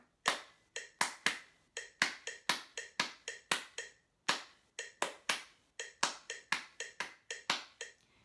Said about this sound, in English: I'm going to demonstrate how to clap along with the guitar part while a metronome keeps a steady beat behind me